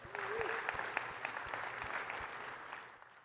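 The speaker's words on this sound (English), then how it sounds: "Give him a round of applause" An audience applauds a team member named Gal at a talk, a dense burst of clapping with distinct individual claps that slowly fades out.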